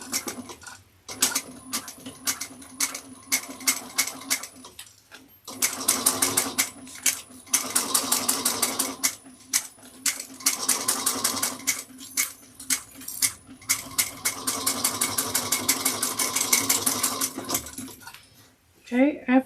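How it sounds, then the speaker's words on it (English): A sewing machine stitches a bucket bag seam at 3/8 inch in repeated fast bursts, stopping and starting several times with short pauses between runs, close and clear. "I'm going to sew this at 3/8 of an inch"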